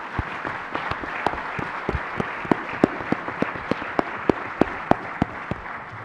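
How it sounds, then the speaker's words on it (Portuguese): Audience applause at a talk, a steady wash of clapping with sharper individual claps punctuating it, moderately loud and sustained without a break, no voices over it. "para quem eu peço uma salva de palmas"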